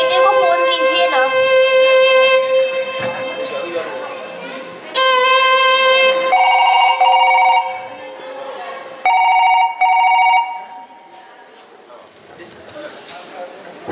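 A telephone rings during a call in short electronic bursts of bright, buzzy tones that stop and start again between quieter stretches, with other tonal sounds in the background.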